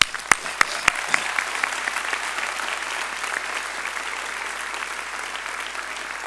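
Warm applause from a graduation ceremony audience for the families and supporters of graduates. It opens with a few sharp, loud claps and swells into dense, sustained clapping from a large crowd.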